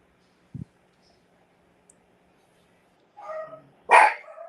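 A dog gives a single short bark early on, fairly close, followed later by louder indistinct vocal sounds or movement near the end of an otherwise quiet room.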